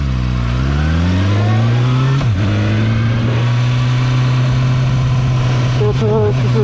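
KOVE 450RR motorcycle engine riding at night, a loud steady drone that rises in pitch over the first two seconds, then holds a constant hum with a brief dip partway through.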